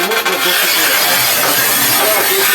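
A manual tile cutter, Haisser 1200 Industry or Shijing 3051 (Stark MTC), scoring ceramic tile with one continuous, loud, close rasping grind that starts after a short rough scrape and holds steady to the end.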